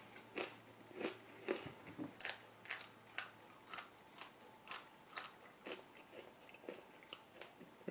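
Crunchy chewing of a packet of dried small fish mixed with peanuts, close and quiet, with a steady rhythm of roughly a dozen distinct crisp bites and crunches.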